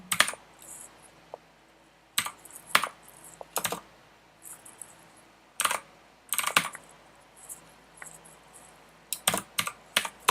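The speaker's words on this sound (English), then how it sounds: "let's try with the keyboard" Someone types on a computer keyboard in bursts of sharp, close key clicks with quiet pauses between them while playing blindfold chess on lichess.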